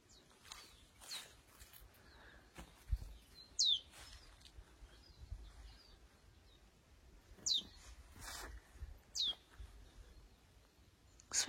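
Small bird singing outdoors in a garden during pruning in fine weather, short sharp chirps and whistled phrases repeating at intervals over quiet background with occasional rustling.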